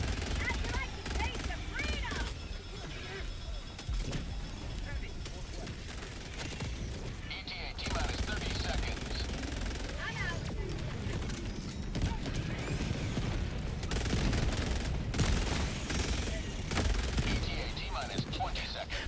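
A sport weapon in a shooter game fires in rapid repeated bursts of shots, steady and fairly loud, while someone talks over the gunfire.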